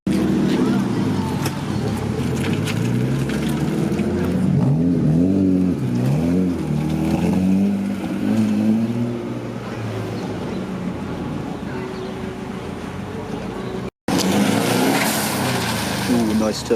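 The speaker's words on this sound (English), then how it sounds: "Ooh, nice turbo." Turbocharged car engine revving at a car meet, fluctuating rises and falls in pitch that run steadily throughout, close and loud, with people talking over it and a brief cut near the end.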